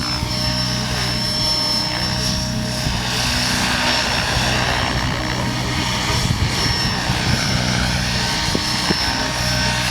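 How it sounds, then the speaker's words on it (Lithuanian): A LOGO 800 radio-controlled model helicopter flies at an outdoor model aviation event, its powerful motor and rotor producing a loud, steady, high-pitched whine and whir throughout, with no talk over it. "Tai yra labai galinga jėgainė jame, nes tokį sraigtasparnį laikyti ore reikia jau jėgos."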